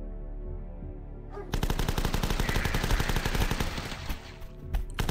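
Rapid Uzi gunfire from a survivor in the zombie game The Last Stand, a steady, dense rattle of automatic shots that kicks in after a short tonal hum and keeps going to the end.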